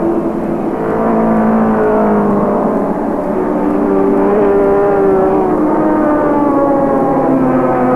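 Group C touring cars racing at Sandown in 1984, engines screaming down the straight as a driver shifts up into fifth; a loud, steady, high-pitched engine drone with rising and falling tones, no talking.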